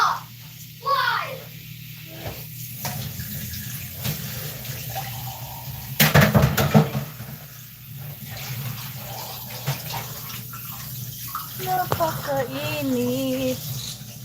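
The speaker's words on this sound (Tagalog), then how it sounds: "Humina ang tubig dito!" Tap water running in a home sink with weakened pressure, a steady broadband wash throughout, with a brief louder surge midway and children's voices and chatter over it.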